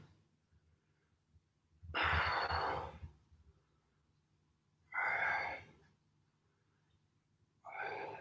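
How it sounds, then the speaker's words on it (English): Deep, heavy breathing during a home lower-body strength workout: three long, close breaths spaced a few seconds apart, with quiet pauses between them. "Good, big deep breaths."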